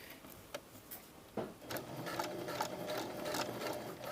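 A sewing machine with a double needle runs stitches through swimsuit elastic, starting with a few short bursts and then settling into a steady, close mechanical whir with rhythmic ticking.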